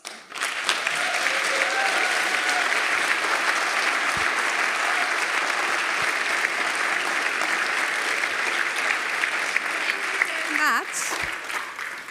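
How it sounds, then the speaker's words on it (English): A conference audience applauds panel speakers with a long, steady round of clapping that holds evenly, with a few voices and a brief whistle near the end before it fades. "This is your applause."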